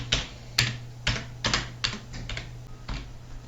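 Postcode typed on a computer keyboard, a quick string of sharp, close key clicks in an uneven rhythm, about a dozen taps over a few seconds, with no talk.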